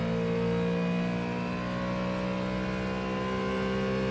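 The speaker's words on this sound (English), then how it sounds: "we can see a Ferrari just ahead of Robichon as he thunders through the grandstands one more time." A Ford Mustang GT3 race car engine roars at high revs, steady and loud, with a slight pitch shift as it passes close by the grandstands at the Le Mans 24 Hours; no voices.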